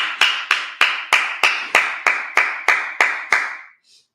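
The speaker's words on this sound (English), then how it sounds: "Clap it up again." A congregation at a Sabbath service clapping in unison, about eleven sharp, evenly spaced claps in a steady rhythm, loud and close, then stopping.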